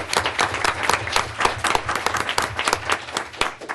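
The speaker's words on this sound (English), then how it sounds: "we can clap for him" Brisk clapping from a modest audience at a school board of education meeting, individual claps clearly distinct in a lively, uneven rhythm, fairly close and without talk.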